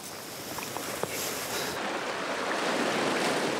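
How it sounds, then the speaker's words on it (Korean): Sea waves break against rocks on the coast of Ulleungdo island in spring, a continuous loud wash of surf with some wind noise, rising slightly toward the end. "바위를 때리는 파도 소리도"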